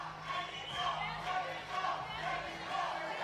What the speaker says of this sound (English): Mexico being chanted from the crowd at the moment as some good defense has been played